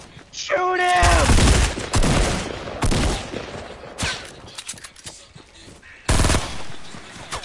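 Rapid SMG gunfire in a video game, loud close bursts from a submachine gun with shouting voices over the shots and brief pauses between volleys.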